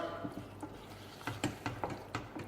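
Macaroni stirred into a cheese sauce with a spoon: quiet, irregular scraping clicks and squelches against the pot, spaced unevenly and growing a little busier toward the end, with no talking.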